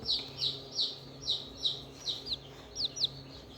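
Small chicken chicks peep repeatedly at close range, about a dozen high, piercing chirps in an uneven rhythm over a quiet background.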